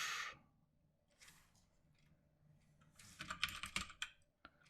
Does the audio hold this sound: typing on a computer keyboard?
yes